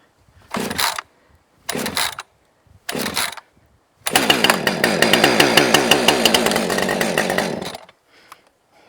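A cold 30cc chainsaw with choke set: three short pull-start attempts, then the engine catches and runs at a loud, steady, buzzing rev for about four seconds before cutting off, close by, with no talking.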